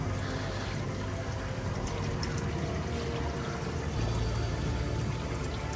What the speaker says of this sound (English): The fluid level is higher than the actual pan, so loosen it up and then loosen that corner up so it just drains in.